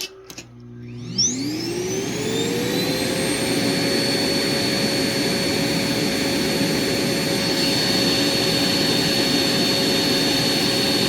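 A Prolux Tritan VCB46A14A vacuum cleaner starts up and spins to maximum power, its motor whine rising quickly, then holding a loud, steady roar with a high tonal hum close by.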